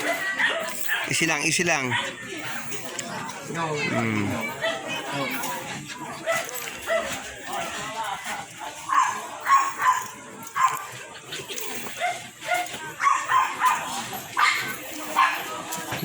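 Dogs bark in short yips and whimper repeatedly at close range, mixed with people talking and soothing them.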